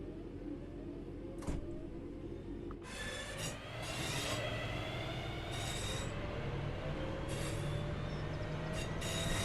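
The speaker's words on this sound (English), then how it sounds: "Pretty sure another train is coming." A train approaching in the railway simulator Train Sim World 5, a steady rumbling roll of wheels with rising squeal and rattling wagons that grows louder and fills the scene after a quiet start.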